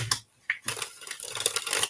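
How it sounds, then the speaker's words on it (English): Playing cards shuffled during a live tarot-style reading, a quick riffle of crisp papery flicks and soft slaps that comes in two bursts, close and fairly quiet, with no talking over it. "So, all right, Lauren, one more shuffle for you,"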